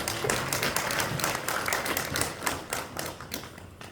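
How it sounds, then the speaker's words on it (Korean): Applause at a Korean church prayer gathering, offered as praise to God; dense, lively clapping with sharp individual claps standing out, fairly close and without speech. "하나님께 영광의 박수 올립니다."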